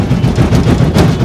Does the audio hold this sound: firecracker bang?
yes